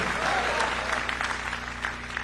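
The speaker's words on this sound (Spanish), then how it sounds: "Dele fuerte ese aplauso al Cristo de la gloria" Congregation applauding at a church testimony service, a steady wash of clapping with a low hum underneath and some voices in the mix.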